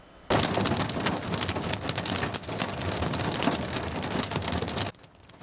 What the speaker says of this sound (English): this is gumball-sized hail falling in Lee County a short time ago.